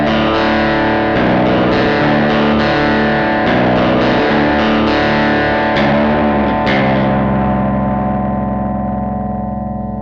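An electric guitar runs through a Space Cowboy pedal set for a dark, grunge-style distorted tone, playing heavy sustained chords with a few quick changes before a last chord rings out and slowly fades. The sound is loud and unaccompanied.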